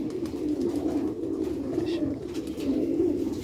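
Sialkoti pigeons coo steadily nearby, a low throaty rolling sound that continues without pause.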